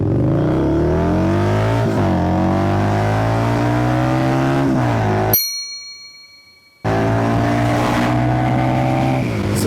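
A cruiser motorcycle launches from standstill to 100 on an empty road, its engine note climbing loud and close through several gear changes, with a short silent gap before the rising roar resumes.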